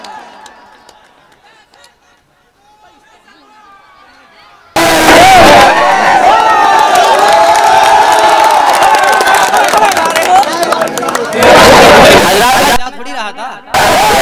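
Loud, dense crowd applause and cheering at an outdoor mushaira poetry gathering in Rasool Pur, Meerut, rising suddenly after a quiet stretch and roaring for several seconds, with a short break before it resumes.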